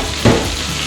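Mushrooms fry in a hot pan, giving a loud, steady close sizzle with a brief stirring scrape partway through.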